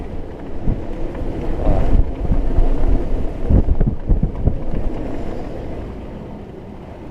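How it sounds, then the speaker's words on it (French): Wind gusts buffet a sailboat off Port Grimaud in 25–30 knot westerly wind, a loud rushing roar with irregular thumping bursts from the microphone, swelling and easing over several seconds; a brief word is spoken. "Ouais, il y a quelques rafales."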